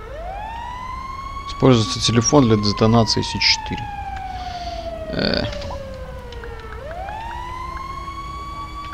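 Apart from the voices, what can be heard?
fire truck siren in the video game GTA V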